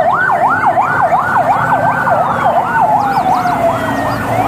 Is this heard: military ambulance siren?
yes